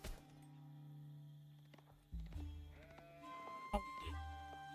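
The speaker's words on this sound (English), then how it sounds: "Let's look here at the sheep" Sheep bleating in a real-time strategy game, several short wavering bleats in sequence over steady background game music and soft thunks, fairly quiet overall.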